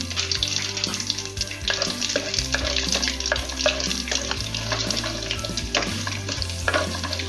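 Urad dal frying in hot oil with spices such as red chillies and asafoetida, a steady crackling sizzle broken by repeated scraping stirs of a spoon against the pan, close and continuous.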